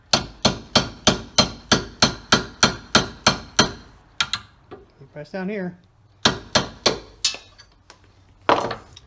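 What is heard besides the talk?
hammer tapping hinge pins into Plymouth Barracuda door hinge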